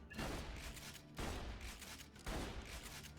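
Three booming shotgun blasts from a Bandit shotgun in Borderlands 2, spaced about a second apart, each loud and close with a short, noisy decay.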